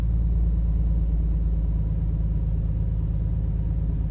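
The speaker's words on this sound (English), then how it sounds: "Oh, I'm revving the guts out of it again." A Kenworth T800 truck engine in Euro Truck Simulator 2 drones steadily, a loud low rumble holding at high revs with a faint whine rising at the start, and no talk.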